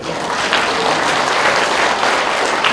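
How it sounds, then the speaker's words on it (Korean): Steady, dense applause from a large crowd at a Korean Buddhist book launch fills the space, loud and continuous throughout with no pauses. "큰 박수 부탁드립니다"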